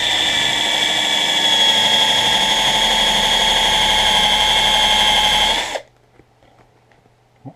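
A power drill spins a half-inch bit into tough tent material, a loud steady whine holding for about six seconds before cutting off abruptly, leaving near silence with faint handling clicks.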